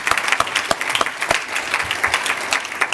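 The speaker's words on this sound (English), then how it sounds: "Let's give them a round of applause." Steady applause from a gala audience, many hands clapping densely and continuously for the full stretch, fairly close and without speech.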